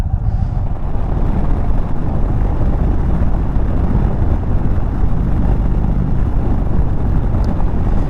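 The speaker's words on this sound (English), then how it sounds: "And the exhaust note on these bikes is just amazing compared to the smaller counterparts" Deep, continuous exhaust rumble from a 2023 Indian touring motorcycle cruising at speed, loud and steady throughout with heavy wind noise buffeting the microphone.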